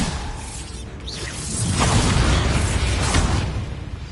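Bombarda spell blast in Hogwarts Legacy: a swishing whoosh of the cast followed by a loud rumbling explosion that swells after the first second and a half and sustains with crackling debris.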